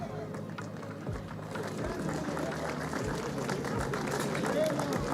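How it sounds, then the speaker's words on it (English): Crowd at a kart racing podium ceremony claps steadily, a dense wash of applause and crowd murmur running throughout at moderate distance. "Let's hear a big round of applause for John Hahn."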